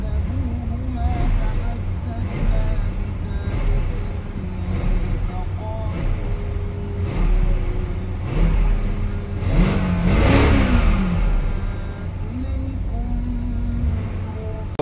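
BMW 750Li E66 engine revving after a radiator replacement, a close mid-pitched engine rising and falling through several revs with loud mechanical whir, and a person speaking over it.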